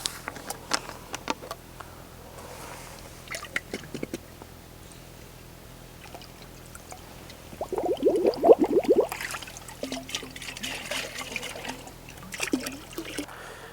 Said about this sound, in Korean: 그 다음에 또 루엔스 1리터짜리인데 이것도 한 병을 다 넣을 겁니다.